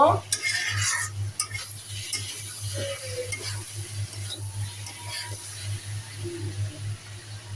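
A golda prawn and potato curry, cooked bhuna style, is stirred in a pan, giving scraping, clattering strokes over a soft sizzle and a steady low hum from the stove.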